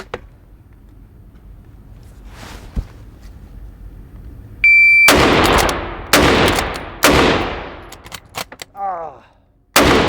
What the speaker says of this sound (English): Let us just give the Manky Mauser one last shake of it.